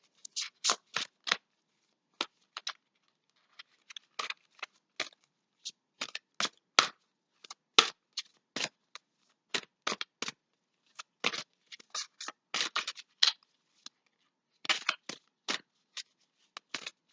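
Tarot cards shuffled and handled during a reading, a long run of crisp, close riffling and snapping bursts in irregular clusters with short quiet gaps between them.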